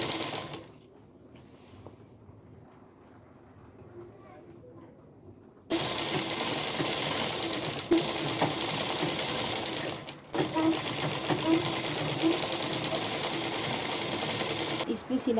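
Sewing machine stitching salwar fabric over buckram: quiet handling at first, then a loud, fast, steady whirring run of stitches, with a short pause, close up.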